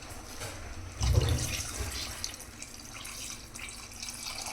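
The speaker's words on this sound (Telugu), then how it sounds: "ఈ లోటా నిండా వాటర్ వేసేసుకున్నాను" Water from a lota pours into a pot of mutton, a close liquid splash that swells for about a second and then settles into a steady trickle and drip.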